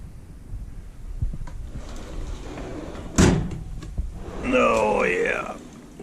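A single loud slam from a US General tool chest drawer lands mid-clip among soft handling noises, and a person speaks shortly afterward.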